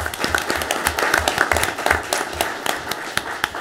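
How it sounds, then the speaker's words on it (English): At an awards ceremony, an audience applauds a young winner, a crowd of clapping hands with a few sharper individual claps standing out, steady and fairly close, with no speech on top. "let's give Rylan a big hand of applause"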